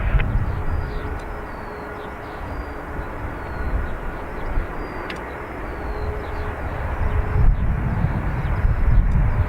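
Aer Lingus airliner taking off from Dublin Airport, a loud broad engine roar that swells toward the end, heard at close range with no voices.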